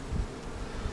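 A low, steady buzz of honey bees hums throughout, with a couple of brief louder swells, the bees droning close by.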